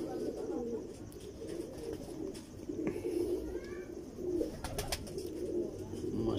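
Pigeon coos at night, soft low repeated cooing from a nearby bird of a rare fancy breed, with a few faint chirps over steady low background hum.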